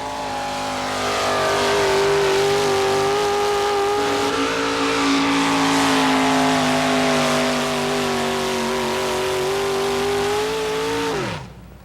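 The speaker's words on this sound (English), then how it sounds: "Jim Lyons running right down the left-hand side of the track. A good run for this GMC" A GMC drag racing truck makes a run down the strip, its engine holding a loud, steady roar for about ten seconds with the pitch sliding slowly lower before it cuts off sharply.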